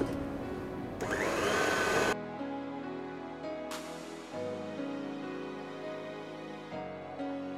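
Electric mixer whipping cream for a strawberry shortcake, a steady motor whir that shifts pitch and loudness as the beaters move through the bowl, with a brief louder burst near the start.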